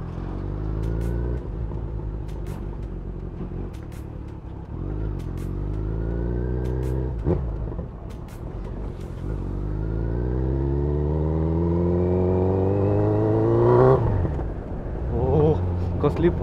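A Kawasaki Z900 motorcycle engine revving on a long solo highway ride, loud and close, with rising and falling rev sweeps climbing to a sharp peak near the end.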